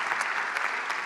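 An audience claps for a phenomenal lecture on anti-globalization and Trumpism, a steady, dense wash of applause that holds at an even level throughout the brief moment.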